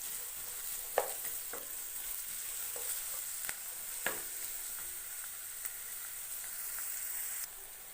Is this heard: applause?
no